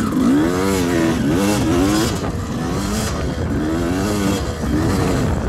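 A dirt bike engine revs loudly and continuously while riding near a homemade jump. The engine pitch rises and falls in repeated surges as the throttle is worked, close to the microphone.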